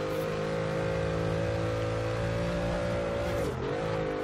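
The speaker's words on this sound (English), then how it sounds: "As you can see, the BMW pulling away here." A BMW Z4 races in Forza Horizon 3 with a sustained, buzzing high-revving engine note held steady, then a quick dip and recovery like a gear shift near the end.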